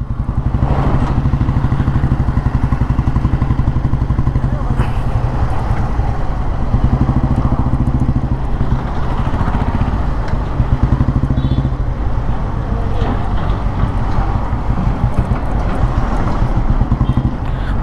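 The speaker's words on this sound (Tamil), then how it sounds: "இது வந்து வண்டி இன்ஜின் பீட்டு நல்லாயிருக்கு." A 1957 Royal Enfield Bullet G2 vintage motorcycle idles steadily up close, its single-cylinder engine thumping in an even low beat with mechanical clatter and some wind buffeting, with no talk over it.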